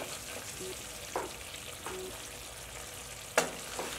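Mutton fries in a karahi as ground cumin, coriander and red chilli powder go in, a steady soft sizzle broken by a few sharp spoon knocks against the pan.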